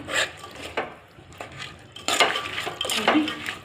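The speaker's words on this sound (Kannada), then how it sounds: "ಈಗ ಚೆನ್ನಾಗಿ ಮಿಕ್ಸ್ ಮಾಡೋಣ ರೀ" Spoon stirring fresh grated coconut through a cooking dish in a pan, with a few scraping, clinking strokes against the metal and a faint sizzle beneath, close and without talk.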